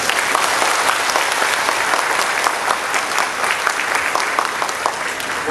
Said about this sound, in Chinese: 我们是不是给市长一个热烈的掌声？